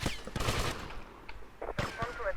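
Gunfire in the video game GTA Vice City Remastered, a mission at a printing house, with a few short bursts of automatic shots that stand out against background game sound before a quieter stretch and another burst.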